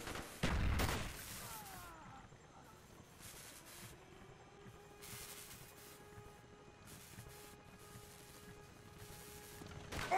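Bursts of gunfire and explosions from Call of Duty Black Ops, with a loud blast near the start, intermittent shots through the middle and another burst at the end, over a quieter background of game noise.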